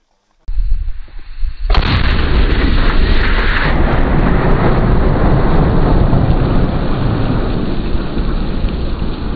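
Artillery rounds strike the range during live fire training by Republic of Korea and US Marines, a sudden heavy blast followed by a second louder boom that rolls into a long, sustained rumble.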